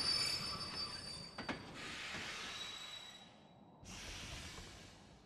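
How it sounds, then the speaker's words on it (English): Space train ride in the video game Kingdom Hearts 2.5, a rolling rail clatter with squealing, ratcheting mechanical tones and a few clanks, fading and returning near the end. "riding the space train."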